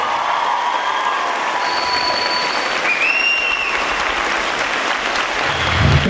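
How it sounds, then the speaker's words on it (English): A crowd claps steadily in dense, sustained applause, loud and continuous, with a faint whistle or two cutting through. "Let's give them a round of applause."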